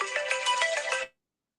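An incoming call ringtone plays loud and close, a bright melodic phrase of quick repeated notes lasting about a second, then cutting off into silence.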